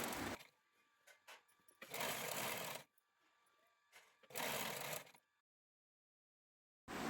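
A sewing machine stitches the side seam of open palazzo trousers in two long loud runs, separated by shorter bursts and quiet pauses, with no voices.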